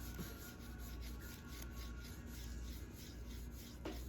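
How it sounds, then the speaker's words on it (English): Leather edge being burnished, a steady soft rubbing friction that continues close and low for several seconds, with a brief scrape near the end. "you're just going to burnish it in there"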